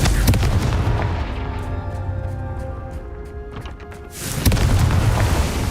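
Confringo fire spell blasting in the video game Hogwarts Legacy, a loud booming explosion that rumbles and fades over several seconds, then a second burst of impact noise.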